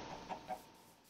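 Two short clucks from a Minecraft chicken, close and fairly clear over a faint steady game background hum.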